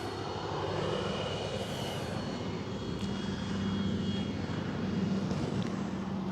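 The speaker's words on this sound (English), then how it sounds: "takeoff flaps deployed. This thing gets on its mains really nicely" An FMS F4U Corsair 1.4 m RC model plane takes off with flaps deployed, its electric motor giving a steady, fairly loud drone that rises slightly in pitch and holds throughout.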